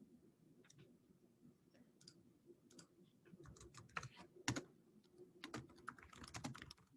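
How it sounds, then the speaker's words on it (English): Someone types on a computer keyboard in an irregular run of light, close key clicks. The bursts grow busier toward the end, with no speech. "Typing in the listing address."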